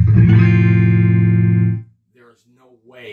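An electric guitar played through a new distortion pedal holds one loud, sustained, buzzy chord that rings for almost two seconds and then dies away. Quieter tones follow after the chord ends.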